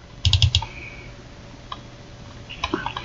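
Quick pair of sharp plastic clicks from a computer mouse double-clicking through accounting software, close and crisp, followed by a few softer scattered clicks against a quiet room.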